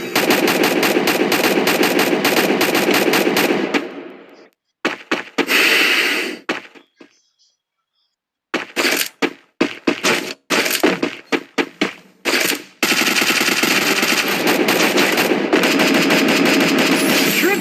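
Bursts of shooter game gunfire, including a headshot, ring out loudly: sustained automatic fire, then a broken sequence of sharp separate shots and short bursts, before another long continuous barrage.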